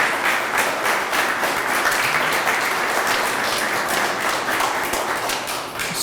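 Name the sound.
audience applause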